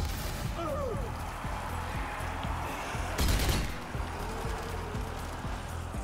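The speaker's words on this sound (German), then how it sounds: "Da hinten schießt schon wieder jemand mit Maschinengewehr." Machine gun fire in the zombie shooter Zombie Army 4: Dead War, coming as faint distant bursts and scattered shots under a dense game soundscape with a louder crash near the middle.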